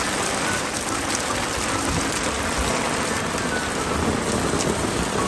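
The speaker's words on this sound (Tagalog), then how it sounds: "Apektado kami sa bagyong Poyang" Heavy rain pounding outdoors during a typhoon, a dense loud continuous roar of drops on surfaces with low rumbles of thunder beneath.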